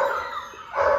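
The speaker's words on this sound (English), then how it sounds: "that's her barking, wanting her babies on the other side of the door" An Airedale mother dog, separated from her five-week-old puppies by a door, gives two close, loud barks with a whining tone, the second starting near the end.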